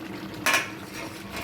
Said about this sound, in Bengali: ঢাকনাটা এবার খুলব